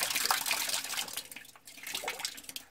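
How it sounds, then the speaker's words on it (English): Water draining out of a Rusco sediment trapper screen filter housing in a plumbing system, a soft trickling and splashing flow that fades midway and then picks up again, with no talk. "Let that water finish draining."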